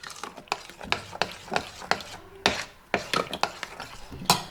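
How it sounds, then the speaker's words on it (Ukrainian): Powdered sugar and Greek yogurt stirred in a saucepan: steady, close scraping and clinking strokes, about two or three per second, each with a sharp start and short fade, alone without talk. "Зараз висипаю все в кастрюльку і перемішую."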